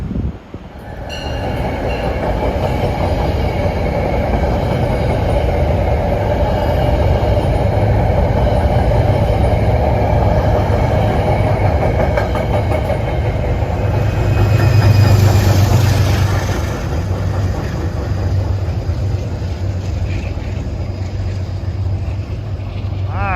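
A train rolls through New York's Penn Station and Harlem 125th Street area, a loud, sustained rumble of rail cars with faint wheel squeal and a brief swell of noise partway through.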